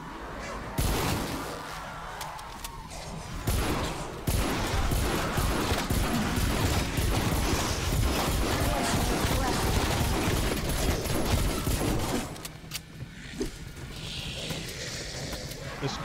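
Sustained gunfire from a weapon in Call of Duty Cold War Zombies, dense rapid shots and booming impacts filling most of the stretch before easing off, with a player talking over the action.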